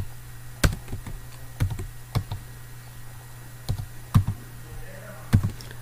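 A captcha code is typed on a computer keyboard: sparse, sharp key clicks in an uneven rhythm, about eight presses over a faint steady hum.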